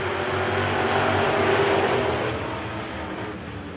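Super trucks roaring off together at the green flag of a weekly short-track race at Victory Lane Speedway, a loud dense wall of engine noise that peaks then eases slightly.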